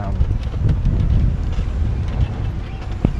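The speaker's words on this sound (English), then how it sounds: "it's very windy" Strong wind buffets the microphone with a constant low roaring rumble, loud and continuous throughout.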